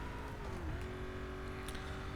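An Audi R8 5.2 or Chevrolet El Camino SS engine in Need for Speed: Most Wanted, a steady close drone with a slight pitch dip. Short and held at an even level.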